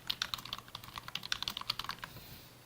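Rapid, crisp keystrokes on a computer keyboard rattle in an uneven stream for about two seconds, then trail off into quiet room tone; no voices.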